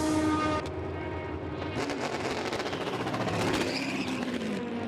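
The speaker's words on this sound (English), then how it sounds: "Nothing like hearing a car move out of the pit lane." A race car leaves the pit lane at the 2020 Rolex 24 at Daytona. Its engine note rises in a steady pitch sweep, then gives way to a loud, rough, continuous roar with sharp gear-change bursts.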